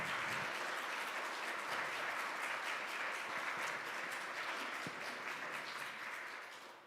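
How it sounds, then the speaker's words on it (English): A church congregation gives a round of applause for Laura and the church leaders, with dense, steady clapping that holds for several seconds before easing slightly at the end. "Let's have a round of applause for Laura and all our leaders."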